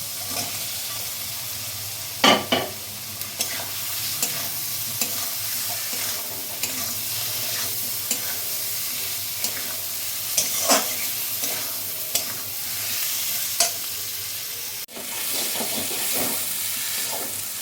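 Fried taro, or arbi, is stirred in a pan with chilli powder and salt for a Bengali-style curry: a steady close sizzle with repeated scraping stirs and occasional louder clatters of the spoon.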